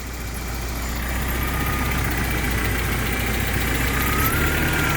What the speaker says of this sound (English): You've got the belts that are a little bit squealy.